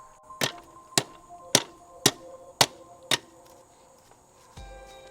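Six sharp metallic hammer strikes on a car's lower control arm bolt, evenly spaced about half a second apart with ringing tails, close and alone, followed by a short scrape at the end.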